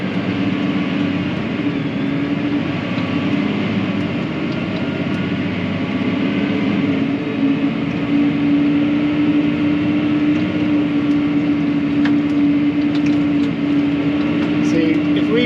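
A Massey Ferguson 7S tractor drives uphill at full throttle and shifts range partway through. Its loud, steady engine drone changes pitch at the shift, and a person talks over the engine noise.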